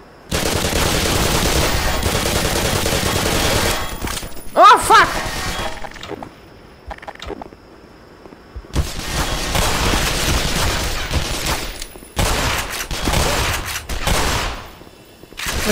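Gunfire in the Black Mesa video game, with loud sustained automatic bursts, a sharp shattering burst near the middle, quieter gaps, then further heavy firing toward the end, with a voice mixed in.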